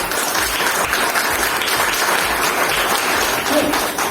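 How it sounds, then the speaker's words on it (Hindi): Loud, dense audience applause fills the whole stretch at a business motivational talk about Modicare Limited, a steady wash of many hands clapping with no break. "एक बार जोरदार तालियां इस कंपनी के"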